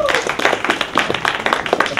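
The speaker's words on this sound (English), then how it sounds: "Give her another round of applause" An audience at a 2015 African Union Expo contestant event claps in a brief burst of applause, with the clapping fairly close and dense.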